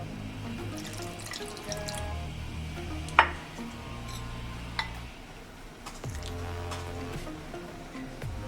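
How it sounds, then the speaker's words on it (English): Water being poured from a tap into a corn flour mixture while making Nigerian akamu (ogi), a steady running flow with a sharp knock near the middle and brief clinks of a pot or utensil. "So I'm gonna add another water."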